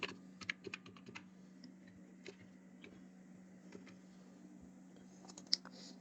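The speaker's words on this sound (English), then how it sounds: "Then here you need to type your password." Password keys tapped on a computer keyboard in a quiet room, an irregular run of soft close clicks in quick bursts with pauses and one sharper tap near the end.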